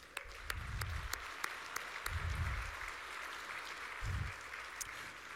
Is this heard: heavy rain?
no